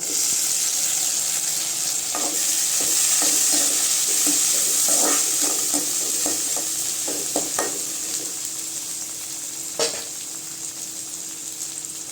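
Steady frying sizzle of onions and tomato in a pan, with scattered clicks of stirring, continuous and fairly loud, no talking.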